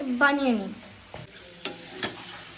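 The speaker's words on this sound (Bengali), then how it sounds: "পেঁয়াজগুলো লাল করে ভেজে নেওয়া হবে" Onions frying in a pan until browned for a mutton curry, a soft sizzle with scattered stirring clicks and taps; a brief voice sounds at the start.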